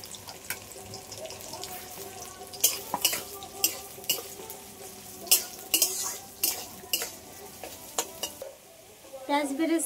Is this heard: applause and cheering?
no